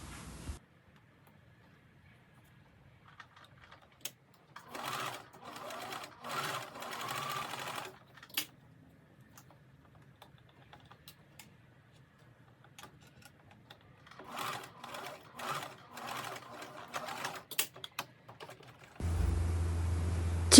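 A sewing machine stitches a zipper onto a button-point dress in two separate bursts of rapid mechanical whirring, with quiet pauses and faint handling sounds between them.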